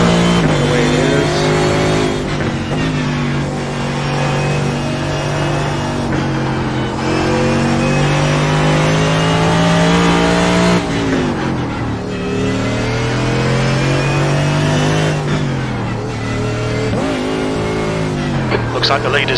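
A race car engine in the iRacing sim at Canadian Tire Motorsport Park drones loud and continuously, its pitch rising and falling through gear changes and corners, with a voice at times over it.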